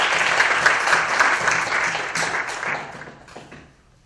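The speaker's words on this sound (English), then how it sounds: "A round of applause, please." Audience in a lecture hall applauds in a full, dense round of clapping that holds steady, then thins and fades out over the last second.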